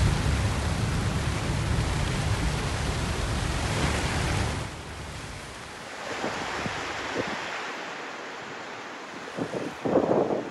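Heavy pre-monsoon rain pours near the Lonavala expressway, a loud, steady broadband roar for the first half that thins into softer patter with scattered sharper splashes and gusts toward the end.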